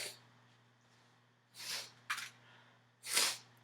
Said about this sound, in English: Sorry about my nose, y'all. And the sniffling.